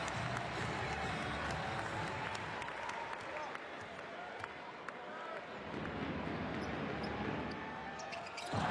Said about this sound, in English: a nice sarcastic cheer there from the fans